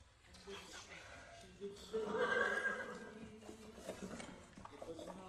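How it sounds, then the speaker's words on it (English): Horses whinny loudly over a tense battle scene in a historic war film, with agitated voices and faint hoof clatter mixed in. "The horses!"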